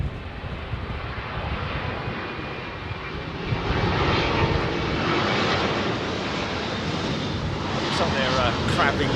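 A Thai airliner coming in to land at London Heathrow in a crosswind, its engines a broad, loud, continuous roar that swells partway through, with someone talking over it outdoors.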